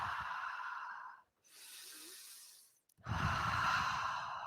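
Slow, deep breaths held through a yoga balancing pose in a power vinyasa class: a long inhale, a pause, then a fuller exhale, close and clear with no talking.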